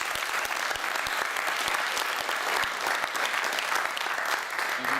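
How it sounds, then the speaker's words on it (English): Audience applause after a talk: dense, loud clapping from a room full of people, continuous and even throughout the five seconds with no one speaking. "So if you give Chris a big round of applause"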